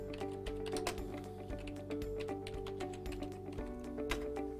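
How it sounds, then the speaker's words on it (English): Keystrokes on a computer keyboard as a ping command is typed into a command window, a steady run of light clicks and taps at close range over a faint constant hum, with no talking. "you want to type ping followed by the IP address of the transmitter"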